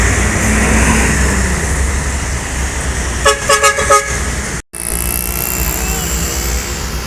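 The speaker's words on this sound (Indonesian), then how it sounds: "ini ada bus lagi nih, bus Sumbar atau bus Jawa" An intercity bus passes on a road at night and sounds its horn in a quick series of several toots, loud and near over a steady rush of traffic.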